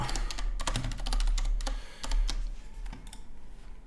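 Rapid clattering keystrokes on a computer keyboard as a name is typed into a settings page, irregular bursts of close, crisp clicks with short pauses between words.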